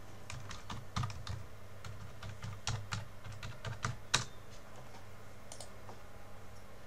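Keystrokes on a computer keyboard entering a new password in Outlook 365 for Windows, a steady run of close, crisp clicks with one sharper tap near the end, no talking.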